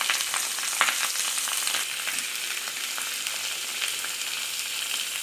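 Three dried red chillies, curry leaves and sliced onion fry in hot oil for a Kerala Tamil green gram dal curry, giving a steady close crackling sizzle with occasional stirring.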